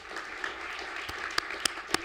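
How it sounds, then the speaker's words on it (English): Audience applause at a radio station hall of fame induction ceremony, a moderate, fairly distant wash of clapping with a few sharper, closer claps standing out toward the end. "How about a round of applause for Mike Pavlichko and what he's done?"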